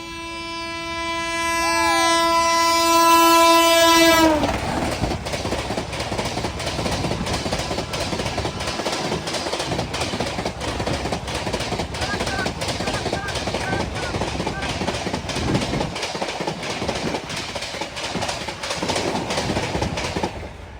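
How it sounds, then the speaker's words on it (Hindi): The Howrah Rajdhani express train sounds a long, loud multi-tone horn for about four seconds, then rushes past at high speed with rapid, rhythmic clattering of wheels over rail joints. A voice speaks over the passing train. "सामने से आ रही किंग राजधानी, हावड़ा राजधानी भाई साहब,"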